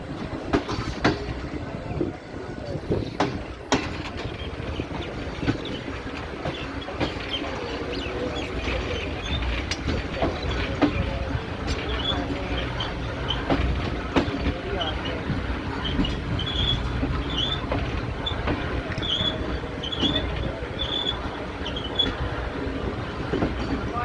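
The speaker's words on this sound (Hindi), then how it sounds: "ट्रेन साहिवाल रेलवे स्टेशन के प्लेटफॉर्म पर आ चुकी है" A train pulls into the platform at Sahiwal railway station, with a long steady rumble of rolling wagons, rhythmic wheel clatter and thin squeals of wheels along the rails, heard close and continuous throughout.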